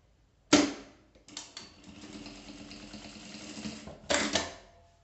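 A sewing machine stitches a fabric glasses holder in close, quiet bursts: a sharp start, a stretch of rapid mechanical whirring, then another short run of stitches, with no talking.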